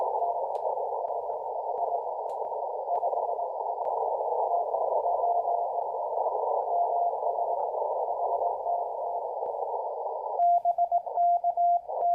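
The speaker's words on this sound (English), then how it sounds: "Let's switch over to CW. Run a little bit of CW here." Morse code CW on the 40-metre amateur band near 7061 kHz, a steady near-continuous tone carrying keyed characters from a distant station in Georgia, with crisp on-off keying standing out clearly at the very end.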